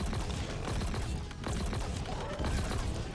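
Heavy gunfire and explosive blasts from the Ravager weapon in the Halo Infinite campaign boss fight, dense and loud throughout with sustained chaotic bursts.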